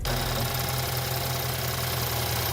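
BMW N20 four-cylinder engine idling with a steady metallic rattle, a continuous close, loud mechanical clatter over a low drone, with no talking.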